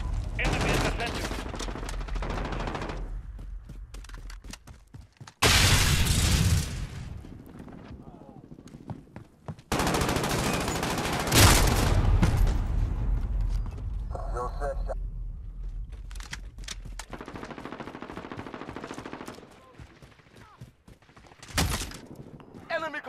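Bursts of automatic gunfire and rifle shots in Call of Duty: Modern Warfare, a Domination match on Azhir Cave, come in loud, dense volleys separated by brief lulls, with radio-style voices talking over the battle.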